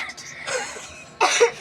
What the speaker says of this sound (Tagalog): Pag utang, inuubo yung mga may-ari ng tindahan.